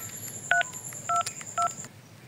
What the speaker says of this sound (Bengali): আর একবার ফোন দিয়ে দেখি।